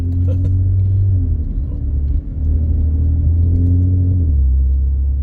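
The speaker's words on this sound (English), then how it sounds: "Like accelerating like this, shifting as soon as I can, it won't really spin that much." A car pulls away on a snowy road in Montréal, its engine rumbling low and steady with a couple of gear shifts marked by brief dips, close and continuous throughout.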